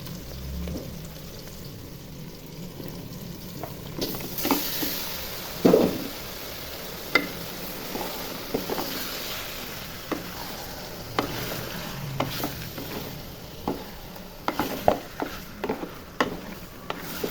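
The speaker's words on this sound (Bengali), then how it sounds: "ভাজা হয়ে গেছে, এখন মেখে রাখা মাংসগুলোও ঢেলে দিব।" Marinated meat stirred into fried whole spices and onion in a pan, a low steady sizzle under repeated clacks and scrapes of a spoon against the pan, close and fairly quiet.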